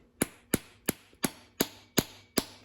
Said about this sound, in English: just go ahead and tap these in